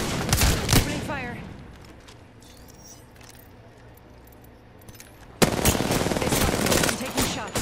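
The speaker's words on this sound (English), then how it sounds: "Opening fire." Video game gunfire comes in loud, rapid automatic bursts at the start and again in a sustained stretch near the end, separated by a quieter gap, with some talk mixed in.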